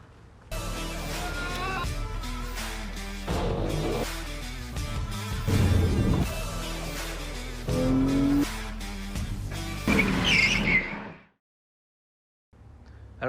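A Toyota Yaris GR drives hard, its engine revving and surging through repeated accelerations with tire squeal, loud and close, before cutting off abruptly into near silence.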